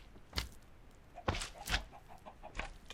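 Chickens in a Minecraft-style hardcore survival world cluck in short separate bursts, four or five brief calls spaced irregularly over quiet background, close and moderately loud.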